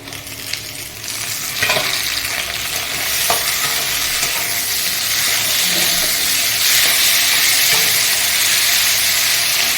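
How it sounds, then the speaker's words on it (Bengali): Green chilies and tomato sizzle in hot oil with browned onions while being stirred, part of a taro-leaf and hilsa-head dish; steady loud frying hiss throughout, with occasional clicks and scrapes of stirring, no talking. "কাঁচা লঙ্কা টমেটো দিয়ে আমি হালকা করে নাড়বো"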